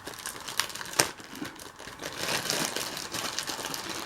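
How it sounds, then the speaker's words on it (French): Packaging being torn and crinkled open while unboxing a Mystery Minis toy, with a sharp rip near the start and then close, busy crinkling and rustling. "on peut se déchirer comme ça."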